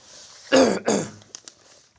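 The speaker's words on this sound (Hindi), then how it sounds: "खांसी प्रॉब्लम कर रही है" A single throat-clearing cough, close and fairly loud, a harsh burst followed by a second rasp and a couple of small clicks afterward.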